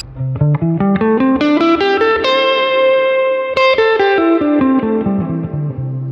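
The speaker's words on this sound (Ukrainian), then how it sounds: "Для цього я візьму мажорну пентатоніку і зіграю її вперед і назад." Clean guitar notes climb a major pentatonic scale one by one, growing louder, then descend again while fading softer, with a ringing sustain at the top.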